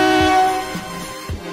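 A single loud, sustained horn blast with a rich harmonic tone fades out, followed by a few low thumps and a steady background rumble.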